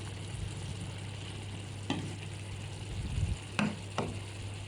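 Eggplant stir-fries in a pan, a steady sizzle under a low hum, broken by three sharp clacks of the utensil against the pan and some scraping stirs.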